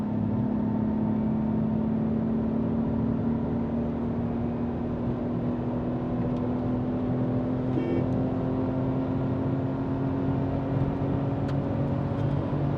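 A Tata Tiago petrol car accelerating in third gear toward about 120 km/h, heard from inside as a steady engine drone with a slowly rising pitch and road and wind noise, continuous throughout with no talk.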